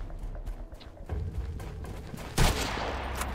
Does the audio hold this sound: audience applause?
no